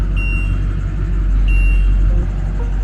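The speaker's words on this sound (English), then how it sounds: "We have a running vehicle." A converted ambulance camper's engine idles nearby with a steady low rumble throughout, and a couple of faint, high electronic beeps sound over it.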